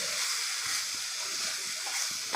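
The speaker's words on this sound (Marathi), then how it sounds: "हे पनीरसुद्धा यामध्ये घातल्यानंतर दोन मिनटे परतून घ्यायचं आहे" Paneer sautéing in a pan as filling for aloo paneer puff patties, a steady close hiss and sizzle with faint scraping underneath.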